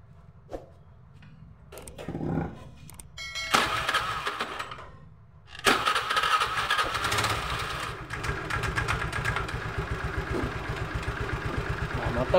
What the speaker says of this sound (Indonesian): kita akan hidupkan dulu motornya